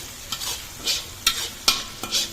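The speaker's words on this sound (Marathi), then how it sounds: "आता कांदा पहिल्यांदा व्यवस्थित भाजून घेतो आणि मिरची तेल काय जास्त गरमच आहे त्याच्यामुळे कांदा लगेच भाजलेला आहे" Chopped onion with green chillies frying in very hot oil for poha, a steady sizzle broken by several sharp scraping stirs of a spatula, close and fairly loud with no talking.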